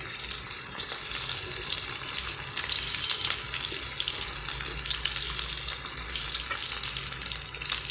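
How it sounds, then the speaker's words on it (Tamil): Onions sautéing in hot oil, a steady close sizzle and crackle with faint stirring scrapes running without pause. "இந்த வெங்காயம் கொஞ்சம் வதக்கி போட்டுக்கலாம் ஃப்ரெண்ட்ஸ்"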